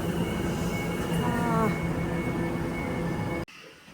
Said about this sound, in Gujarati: હવે છે ટ્રેન આવી છે અને એ પણ ફૂલ હશે